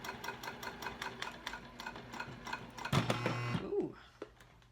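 Domestic sewing machine stitching a wristlet clutch, a steady rapid needle chatter near and moderate, ending in a sharp knock as the needle strikes a metal zipper tooth, then the machine stops.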